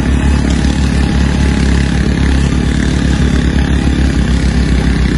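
A scooter engine strains to pull up a steep uphill road on a ride, a loud, continuous, close drone that holds steady throughout with a rough, clattering edge.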